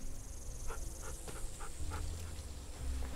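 A dog named Rosie pants quietly in a short series of soft, rhythmic breaths over a low background hum in a zombie survival game scene.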